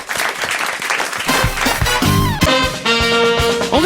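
Studio audience applause on a French radio show, a burst of clapping that quickly gives way to upbeat music with sustained tones and beats, the two overlapping loudly.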